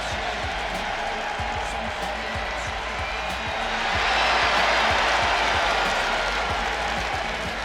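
Arena crowd in the wrestling game WWE 2K25 roaring and clapping continuously, swelling louder midway, with rhythmic thuds underneath and a commentator talking over the noise.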